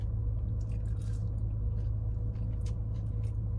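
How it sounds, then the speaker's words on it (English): Close, crunchy chewing of Raising Cane's fries with repeated bites and squishy mastication, steady and intimate, with no talking. "They crunchy."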